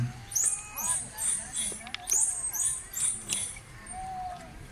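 A series of high, looping dolphin signature whistles at a marine park that rise and fall in quick repeated bursts, with faint clicks between them.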